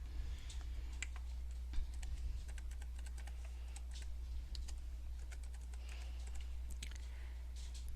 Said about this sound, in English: the student types a name for the list